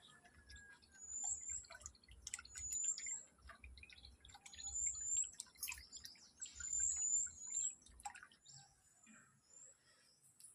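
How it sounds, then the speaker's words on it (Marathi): Sparrows gather at a house doorstep in the morning and give short, high chirps scattered through the scene, quite faint, over low household background noise with no voices. "सकाळचं दारात तर भरपूर चिमण्या येते"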